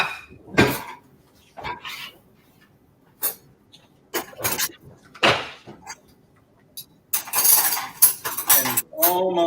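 Dishes and cutlery clink and clatter in a home kitchen while serving dishes are set out beside a pot of boiling pasta, with bursts of sharp metallic and ceramic knocks spread irregularly, fairly close and loud.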